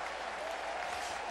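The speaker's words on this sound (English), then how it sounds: "a loud cheer for that final out" A baseball crowd at an opening-day Cubs at Pirates game roars and applauds for the final out, a dense, steady wash of cheering and clapping from a large stadium audience.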